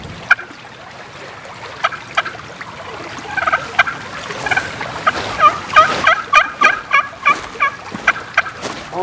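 A handheld turkey call, used outdoors while scouting, gives out a series of gobbling yelps that grow louder and more rhythmic toward the end, heard close over faint background noise.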